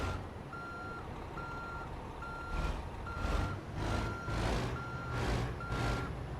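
A truck backing up with steady, evenly spaced reverse beeps over a low rumbling engine, plus a few whooshing bursts of air or motion noise, no talk.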